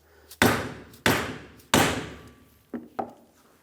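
A hammer taps a new wheel bearing seal into place on the front hub of a 1999-2025 Ford E-350 Super Duty: three firm metallic-wood knocks, then two lighter taps, each ringing briefly, close up with no talk.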